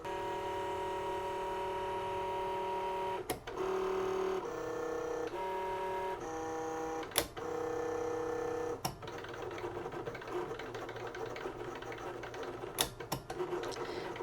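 Liene PixCut S1 sticker printer cutting a sticker sheet, giving a steady mechanical whine whose pitch steps up and down, broken by sharp clicks, then a busier rattling stretch near the end, with no talk.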